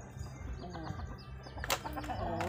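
Low clucking from a rooster mingles with thin, high peeps of a chick nearby, with faint rustling and soft background voices.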